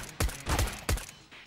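USP pistol shots in the video game CS:GO, two sharp, punchy reports about seven tenths of a second apart, each with a brief tail of gunfire clatter between them, close and clear.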